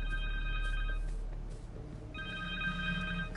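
A cell phone rings in the Marvel's Spider-Man 2 video game, two bursts of a steady electronic ringtone separated by a short pause, clear and moderately loud with no talking.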